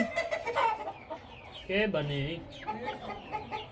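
Hens clucking in a flock, repeated short calls close by, overlapping with talk throughout.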